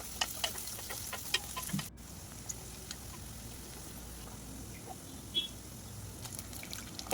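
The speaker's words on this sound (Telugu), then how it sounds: "రెండు మీడియం సైజు ఉల్లిపాయలని కట్ చేసుకొని ఫ్రై చేసుకుందాం" Two medium onions and a few curry leaves fry in oil in a pan for a Nellore fish curry, a soft, steady sizzle with faint crackles and occasional stirring clinks, quiet and close.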